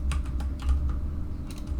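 Quick, light keystrokes on a computer keyboard come in a short irregular burst, close and fairly quiet over a low hum.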